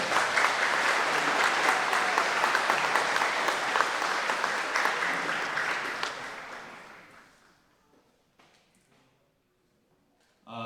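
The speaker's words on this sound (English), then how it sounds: "All right, how about another round of applause for this group of candidates here?" An audience at a Boyd County Republican meet-the-candidates event applauds the 2024 election candidates, sustained loud clapping from a room full of people that fades out after about seven seconds into near silence.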